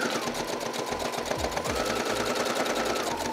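A sewing machine driven by a foot pedal runs steadily through a straight stitch along a curved fabric piece, giving a continuous close whirring with a fast, even needle rhythm and no talking.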